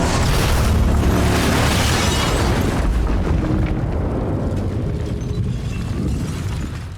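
A lodge explodes in the video game Until Dawn with a loud, deep blast, and a rumbling roar of fire and debris follows that slowly thins out over several seconds.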